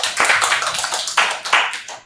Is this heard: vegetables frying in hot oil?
no